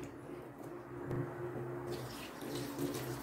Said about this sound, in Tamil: நான் 1 கப்பு தண்ணி விட்டுருக்குறேன்.